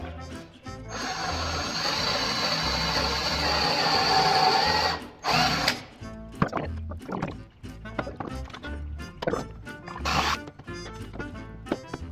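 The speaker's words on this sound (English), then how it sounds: "we have to pocket hole a bunch of stuff" A power drill whirs steadily through 2x6 lumber, cutting pocket holes for a workbench. The drilling then breaks off into rapid clunks and knocks of wood and tools being handled nearby.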